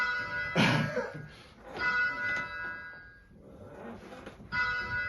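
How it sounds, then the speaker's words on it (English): A church tower bell at Kirkburton, rung by a learner bell ringer, sounds in three loud, ringing strikes spaced a second or more apart, each decaying into a long shimmering hum. "Just let the bell do the work."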